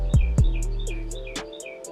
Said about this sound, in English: I know y'all hear these birds